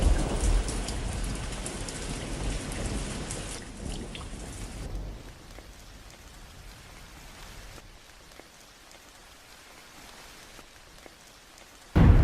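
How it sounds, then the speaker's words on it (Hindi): Heavy rain pours down outdoors near a forest, a loud dense hiss that eases into lighter steady patter after a few seconds, ending with a sudden loud burst. "इस बारिश ने क्या कर दिया?"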